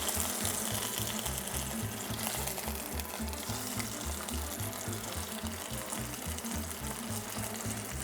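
Steak for a Sichuan au poivre sears gently in a pan with a continuous, even sizzle and crackle that holds steady throughout, over a low rhythmic hum.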